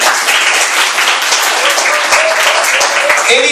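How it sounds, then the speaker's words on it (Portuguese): A church congregation applauds during a worship service, a loud, dense wash of many hands clapping steadily throughout, with voices mixed faintly into the crowd noise. "Pode aplaudir com fé."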